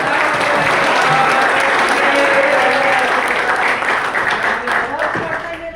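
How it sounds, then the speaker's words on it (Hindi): An audience at a cultural event for PNB staff in Lucknow claps loudly and steadily, then the applause slowly thins out and fades, while voices talk over it. "एक बार इनके लिए भी जोरदार तालियां"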